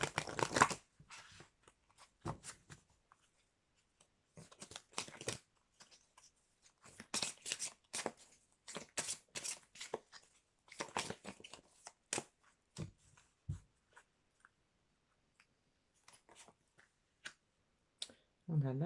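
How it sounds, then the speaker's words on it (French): A small intuitive oracle deck is shuffled by hand in short, intermittent riffles and soft card slaps, quiet and close, with a voice speaking between them. "je vais prendre des cartes dans l'oracle, mon petit oracle intuitif"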